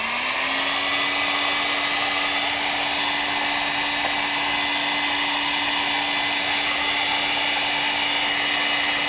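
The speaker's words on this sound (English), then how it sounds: "hit it with the heat gun" Heat gun blowing steadily over freshly clear-coated brake calipers for a Honda Integra, a constant loud whoosh with a fixed whine that rises briefly at the start and then holds level throughout.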